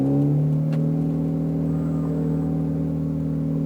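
Ferrari 488 Pista engine held at a steady, loud, close rev with a strong sustained tonal drone and a slight rise at the start, no talking.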